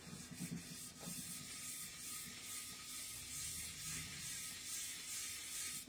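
Grime is scrubbed off the bottom of a pan in quick repeated rubbing strokes, a faint, close scratchy rasp with a low hiss behind it and no talking.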